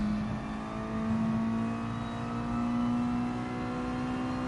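A Mazda touring race car engine held at full throttle in a racing video game, a steady loud drone with a strong sustained pitch that climbs slowly and evenly, with no pauses or gear changes.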